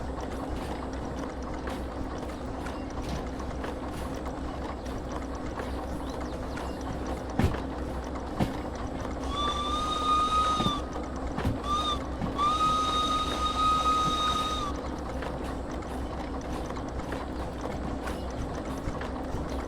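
An S060 steam locomotive in Derail Valley runs with a steady low mechanical rumble and clanks, while a thin metallic squeal, like brakes or wheels, rises partway through and fades again.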